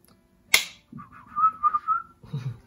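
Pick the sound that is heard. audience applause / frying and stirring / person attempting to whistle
person attempting to whistle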